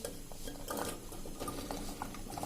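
A kilogram of chopped carrots sautés in about two tablespoons of hot ghee in a cooker for carrot halwa. A spoon stirs and scrapes against the metal pot in close, steady clinks over a soft sizzle, with no talking.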